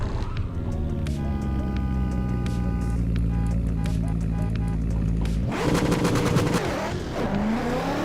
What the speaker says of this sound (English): let me stop the car for a second here. You can hear the horn.